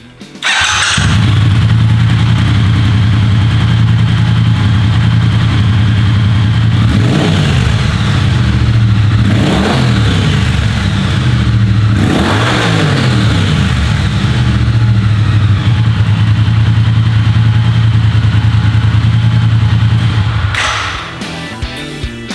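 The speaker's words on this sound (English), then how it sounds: "the sound of that twin exhaust" A loud Triumph Speed Twin 900 motorcycle with Euro 5 compliant twin exhaust idles with a deep, steady burble, blipped a few times into short throaty revs before settling back.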